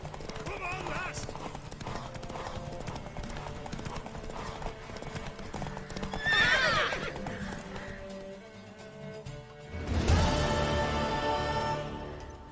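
A mare's hooves clip-clop steadily while she neighs loudly, with people talking over the sounds and a louder burst of activity near the end.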